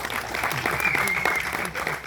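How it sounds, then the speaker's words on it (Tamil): An audience at a Tamil film event breaks into brief applause, a dense burst of clapping that holds steady, then begins to thin out toward the end. "அதுக்கே தனியாக நீங்கள் ஒரு ஒரு கைத்தட்டல் கொடுக்கலாம்"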